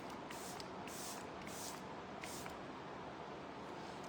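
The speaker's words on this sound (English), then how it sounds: "take your setting spray," Makeup setting spray misted onto a face in several quick bursts, a series of close, soft hissing puffs over a steady low background hum.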